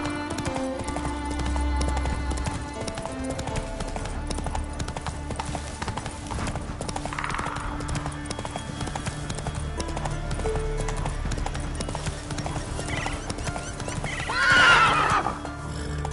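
Roach the horse from The Witcher 3 gallops with steady clip-clop hoofbeats under game music and ambience, then lets out a clear whinny near the end.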